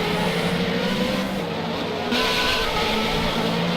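Formula Renault 3.5 race cars at Silverstone, a distant engine drone that shifts and swells as the cars pass, steady and moderately loud with no talk.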